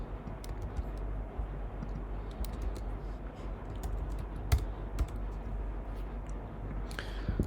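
C++ code is typed steadily on a computer keyboard, a dense run of close, crisp key clicks over a low background hum, with no voices.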